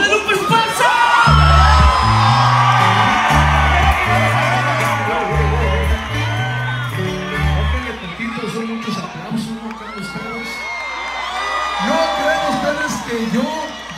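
Concert crowd at a live show in Guatemala cheering, whooping and shouting loudly and continuously over a pulsing bass-heavy band groove, with voices rising throughout.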